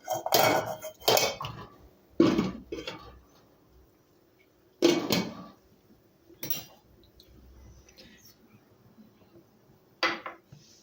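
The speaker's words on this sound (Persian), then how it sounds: "سیب زمینی ها رو از درون قابلمه بر میداریم که باید اینا رو لهشون کنیم" Metal utensils clink and scrape against pots while boiled potatoes are lifted out, in several separate bursts, close by, with quiet pauses between the clatters.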